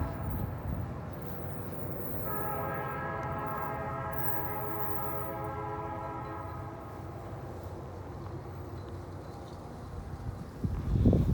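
A freight train sounds a long sustained chord horn while its engine labors up a grade, a steady rumbling drone underneath, the horn blaring for several seconds before fading back to engine noise.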